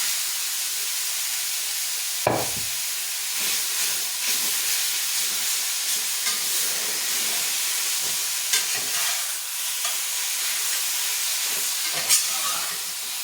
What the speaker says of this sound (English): Now we're going to add our steak over here, and we're just going to fry it up